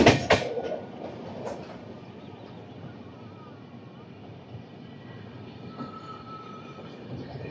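Double Decker Uday Express train (22701, Visakhapatnam–Guntur) rolling along the rails, a steady rumble with a few sharp knocks at the start and a faint tonal whine later, continuous throughout.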